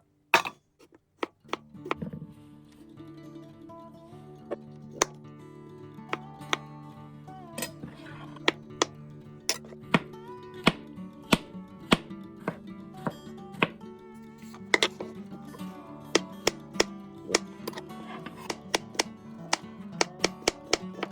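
A knife slicing mushrooms thinly on a cutting board in a home kitchen, a long run of crisp, evenly spaced taps, close and clean, with a faint steady hum underneath.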